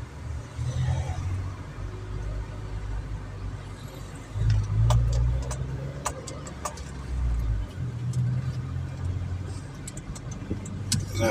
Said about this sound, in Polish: więc spory ruch samochodów